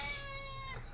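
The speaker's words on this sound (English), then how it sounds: "I'm gonna try and get this cat resettled here." A fussy female cat gives one drawn-out, whiny meow at close range, loud and alone with no other sounds.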